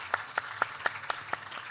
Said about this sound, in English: Oh yeah, round of applause, everybody.